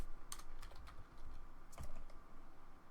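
A player types a command on a computer keyboard while playing 7 Days To Die, with a few quick, faint key clicks in two short bursts over a low room hum.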